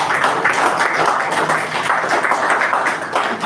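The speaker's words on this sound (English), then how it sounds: "Can we please give him a round of applause?" An audience at a Rotary District 9112 ethics seminar applauds steadily, a dense, even wash of clapping that holds for a few seconds at close range.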